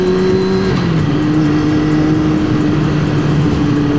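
A race-coolant-equipped motorcycle revs loudly and close, a strong steady engine drone with pitch that dips and shifts over a few seconds amid traffic noise.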